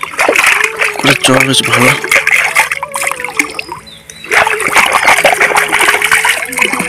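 Water splashing and sloshing close by as someone washes in a village pond, bursts of splatter coming and going while a voice talks over it.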